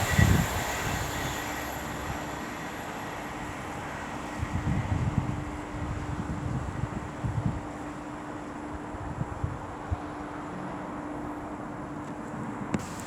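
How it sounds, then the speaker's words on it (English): An Avanti West Coast Class 390 electric train approaches on the West Coast Main Line at Rugeley Trent Valley, a steady broad rumble and rush of wheels and wind holding at a fairly loud, even level with no talk. "now approaching is 390-046 for Avanti West Coast, working 1 Foxtrot 18 from London Euston to Liverpool Lime Street"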